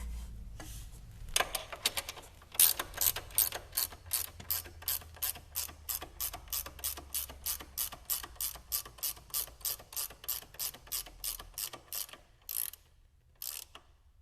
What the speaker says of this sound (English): to tighten up the bottom nut, you need to put pressure on the A-arm using a bar